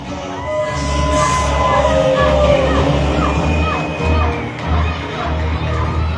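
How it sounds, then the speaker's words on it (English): A Thunder Mountain Wrestling crowd in Sierra Vista chants for Stud Bronson, a loud mass of voices and cheers over steady thumping arena music. "Fans absolutely love Stud Bronson as we hear the Stud chants come out from this"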